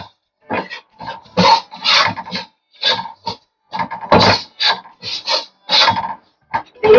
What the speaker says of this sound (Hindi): अब इस घी के साथ फिर से हम आटे को सिम आंच में भून लेंगे।